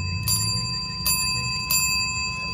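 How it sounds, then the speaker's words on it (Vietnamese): Antique brass push bell struck three times at even intervals, each ding ringing out with a long clear sustained tone over faint low room noise. "Đó, một cái chuông nhấn ha."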